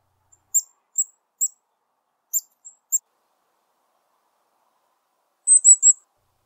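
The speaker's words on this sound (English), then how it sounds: "chickadees use the high C when they see one quickly flying by in high pursuit or is in attack mode" Black-capped chickadee high C alarm calls, given when a raptor is near: a few short, very high thin notes spaced irregularly over the first three seconds, then a quick tight cluster of three near the end, faint and alone.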